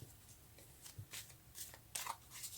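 Tarot cards being shuffled by hand, a series of soft riffling bursts and flicks repeating at close range, fairly quiet with no talking.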